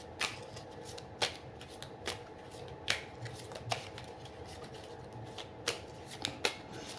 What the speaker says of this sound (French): Ma petite GG, je vais mélanger un petit peu